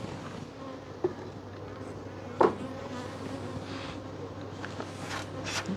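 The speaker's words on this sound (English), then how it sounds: "there we're seeing bees" Honey bees buzz steadily in a bee yard around an opened hive, a close continuous drone with a few sharper passes of individual bees.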